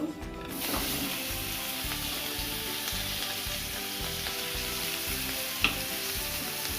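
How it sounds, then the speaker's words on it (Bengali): Steady oil sizzle of rohu fish frying in a pan, continuous and close, with faint background hum and one brief clink near the end. "মাছটা আমি লাল করে ভেজে নেব"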